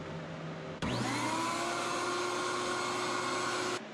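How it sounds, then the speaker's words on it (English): A vacuum cleaner cleaning out the inside of a Konica printer switches on abruptly, spins up to a loud steady whine and drone, then cuts off. "I'm just going to vacuum this out,"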